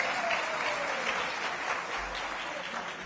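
Crowd at a political gathering applauding the leaders on stage, a steady wash of many hands clapping at moderate loudness throughout, with no clear pauses.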